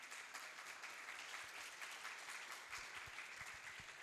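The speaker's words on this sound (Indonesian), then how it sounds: "Tepuk tangan untuk materi kita." An audience of students applauds after a lecture on studying at Al-Azhar University, a quiet, steady patter of clapping heard at some distance, with a few low thumps near the end.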